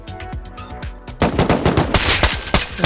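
AK rifle fire in a first-person shooter video game, rapid cracking bursts of automatic shots, sparse at first and then a dense, loud volley with no talk over it.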